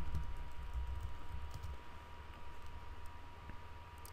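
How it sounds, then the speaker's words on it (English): Keys on a computer keyboard tap out a password in a quick steady run of light clicks, close up, over a low hum of background noise and with no talking. "And then type in your password."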